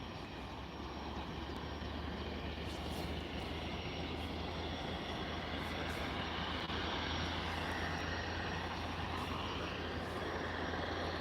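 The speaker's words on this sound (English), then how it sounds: "Just on finals now. It's the Ryanair from Faro." A Ryanair airliner arriving from Faro on final approach at Liverpool Airport roars steadily and loudly throughout, a continuous broad jet engine rumble with no talking.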